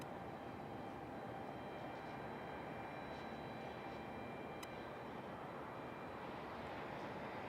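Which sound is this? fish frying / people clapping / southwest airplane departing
southwest airplane departing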